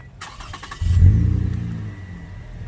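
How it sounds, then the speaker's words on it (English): A Toyota Camry's engine cranks and catches via remote start after a few faint clicks, then settles into a steady idle rumble, close by with no talking. "So now the car's gonna start."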